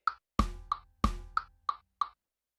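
Programmed drum fill in nTrack: kick and snare hits interleaved with short clicky percussive taps, about seven dry, sharp strikes in an even, quick rhythm, clean and isolated.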